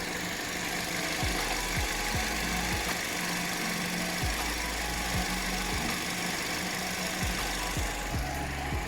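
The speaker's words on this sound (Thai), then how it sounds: "เดี๋ยวผมให้ฟังเสียงเครื่องเลยสักนิดนึง" Idling engine of a 2018 Toyota Altis 1.6G sedan, a steady low hum heard close with faint periodic ticks and clicks over a constant broadband drone, no talking.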